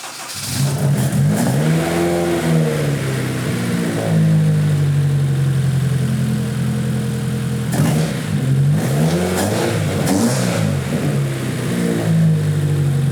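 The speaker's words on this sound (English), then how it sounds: "this better just fire up right there and just have that smooth idle" A Honda K20 engine swapped into an S2000 cranks and fires up, then settles into a loud, close, steady idle with a couple of rising revs and a blip later on, with no talk.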